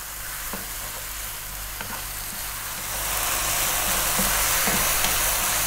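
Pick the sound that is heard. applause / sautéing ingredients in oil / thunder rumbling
sautéing ingredients in oil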